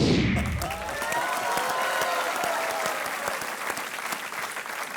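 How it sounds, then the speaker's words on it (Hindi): A studio audience on a Hindi television quiz show applauds loudly and steadily, a dense crackle of many hands clapping that keeps going for the full stretch with no pause. "इतनी तालियां बज गई"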